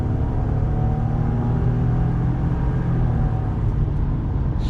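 A 2019 Ford F150 pickup truck under full throttle, heard from inside as a loud, steady engine roar and rumble that carries on without a break.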